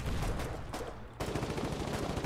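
Rapid video-game gunfire in a war shooter, dense bursts of shots crackling continuously with a brief lull before the firing resumes, loud and close throughout.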